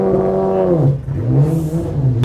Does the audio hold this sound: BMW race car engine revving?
yes